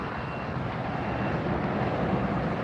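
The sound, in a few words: NetJets aircraft at LAX airport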